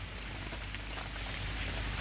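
Heavy rain pours down in a steady, dense hiss that fills the air without pause, with no voices present.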